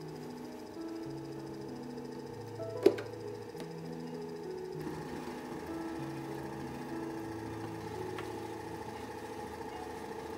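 A stand mixer slowly kneads the ingredients of a citrus laminated brioche dough, a steady low mechanical hum running throughout at even speed, with one sharp knock partway through and no talking.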